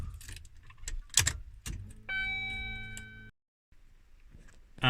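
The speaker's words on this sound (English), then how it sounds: "take the key out," A key is removed from the ignition of a BMW X5 E53, giving soft clicks and a jangle of keys. A steady electronic chime tone follows, then a brief silence, all quiet and close with no speech.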